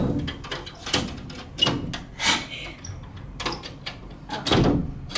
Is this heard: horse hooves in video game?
no